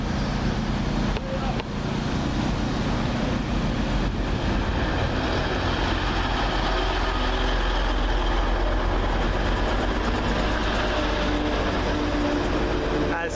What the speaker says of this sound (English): Next train in, the 1142, first Transpennine Express service from Cleethorpes to Manchester Airport.